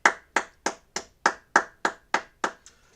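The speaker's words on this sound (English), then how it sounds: "All right, clap it up." Group of men clapping in unison at a brotherhood class, ten sharp, evenly spaced claps in a steady rhythm, close and loud with no talking.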